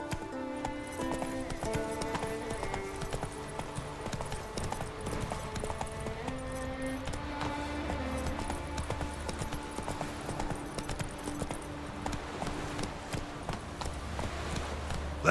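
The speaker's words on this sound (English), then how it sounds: "Run, Roach." A horse gallops in Witcher 3, its steady rhythmic hoofbeats running under a continuous orchestral music score through the whole stretch.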